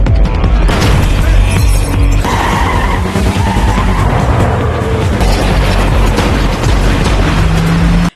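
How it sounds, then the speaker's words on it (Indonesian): A film car chase with cars ramming and shooting at a fleeing car: loud, continuous tire skids and engine roar, broken by heavy impact booms, close and intense throughout. "Orang-orang yang mengejar Casey langsung menabrak dan menembak mobil Casey."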